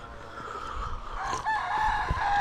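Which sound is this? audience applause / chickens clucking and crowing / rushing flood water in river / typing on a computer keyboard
chickens clucking and crowing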